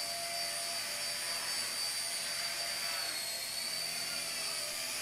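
Hisky HCP60 small RC helicopter flying in 3G mode, with a steady high-pitched rotor and motor whine that stays constant and close throughout.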